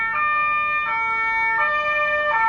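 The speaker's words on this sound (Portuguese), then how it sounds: "Tá passando uma ambulância aqui." An ambulance siren wails close by in a repeating two-tone pattern, cycling about every three-quarters of a second over faint traffic rumble, loud and steady with no talking.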